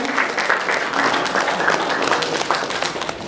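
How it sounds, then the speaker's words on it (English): A conference audience of about 120 people at a PhUSE India 2014 event claps steadily and loudly throughout, a dense sustained round of applause. "let's give big round of applause to this 120 audience who are here today"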